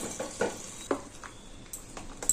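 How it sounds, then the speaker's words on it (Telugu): Tempering spices crackling in hot oil for a chutney in a home kitchen, with a few sharp sizzles and spits, light stirring clinks of a utensil against the pan, fairly quiet and close. "పోపు వేసేస్తున్నానండి."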